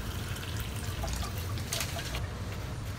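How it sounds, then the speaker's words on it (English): Water poured into a Pyrex cup while cleaning an aquatint spray system, a continuous close splashing trickle lasting a few seconds. "I will put some water in the same Pyrex cup"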